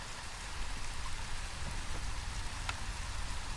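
Steady rain pattering on a surface in the Against the Storm game, a constant wash of drops with no speech.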